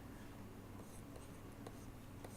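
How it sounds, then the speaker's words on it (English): Chalk or marker scratches across a board in a lecture on predicate logic, a continuous close rasp with short strokes and taps throughout and no talking. "So, now I can write that"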